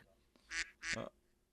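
A person imitates a duck during a tabletop role-playing game, giving two quick, close, nasal quacks with brief pauses around them.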